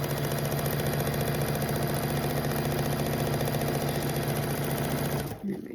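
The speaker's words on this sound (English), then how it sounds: "I am going to sew on the line past the little 1/4 inch border" A sewing machine runs steadily, stitching a quilt along a marked line just past a quarter-inch border, with a loud continuous mechanical hum and rapid needle rhythm that stops abruptly near the end.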